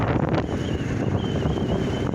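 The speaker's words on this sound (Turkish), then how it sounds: "kaskın içerisinden ıslık ötmeni duyuyorum rüzgardan dolayı" Steady rushing wind roar with a thin, wavering whistle riding above it, close and continuous, as air buffets a motorcycle helmet at speed in foggy weather.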